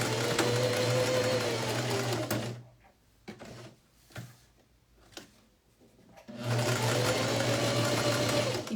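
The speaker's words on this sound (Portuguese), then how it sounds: "Aí eu vou passar uma costurinha aqui por cima, dando um espaçamento de mais ou menos 1 centímetro" A sewing machine topstitching a pocket about a centimetre from the edge runs in two steady, loud whirring stretches, with a quiet pause between them broken by a few soft handling clicks.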